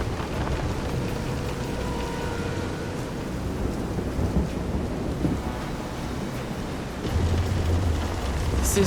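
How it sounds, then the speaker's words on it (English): Thunderstorm with rain at sea in the video game Visions of Mana, a steady wash of rain and rumbling thunder that swells louder near the end, heard alone without talk. "This is some storm."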